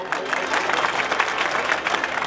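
A crowd at a community gathering claps steadily to welcome Shankarbhai Chaudhary, chairman of Banas Dairy, the applause dense and continuous throughout.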